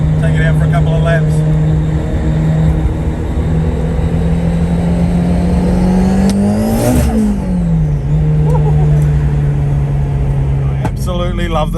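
Modified car engine droning steadily at high revs from inside the cabin, surging briefly, then settling back, loud throughout, with faint pops and crackles and a voice speaking at the end.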